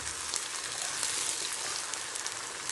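Chili pepper sauce frying in palm oil while being stirred, a dense steady sizzle with crackling pops throughout, close and continuous with no talking.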